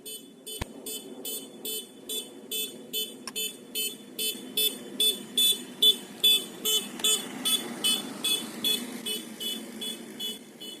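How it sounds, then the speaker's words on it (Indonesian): A car horn beeping in a rapid repeated pattern as a vehicle approaches, a long regular string of loud tonal toots with engine rumble beneath and a couple of sharp knocks early on. "Ada sumber bunyi, yaitu klaksonnya."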